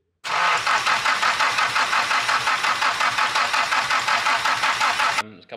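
A Nissan SR20 engine fitted with 272 cams fires up and runs loud and close, a rough, lumpy, choppy idle pulsing steadily for about five seconds before cutting off.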